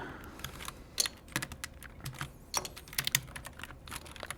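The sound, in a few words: keycaps being pulled off a KC84 mechanical keyboard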